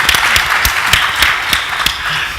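Conference panel audience at an aerospace forum applauding, a brief burst of many hands clapping together, fairly loud and even throughout.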